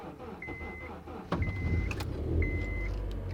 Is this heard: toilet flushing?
no